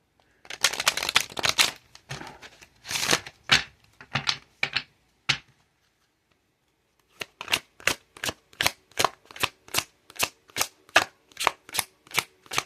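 Brisk card shuffling: a dense riffle burst with scattered taps, a short pause, then a steady run of evenly spaced sharp snaps, close and crisp.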